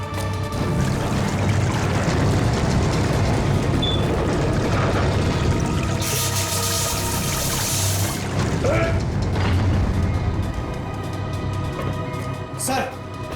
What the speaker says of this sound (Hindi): सबमरीन में दरार आ गई सर। पानी तेजी से नीचे आ रहा है।